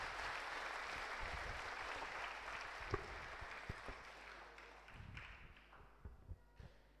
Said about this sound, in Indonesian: Tepuk tangan mo ita saluhutna.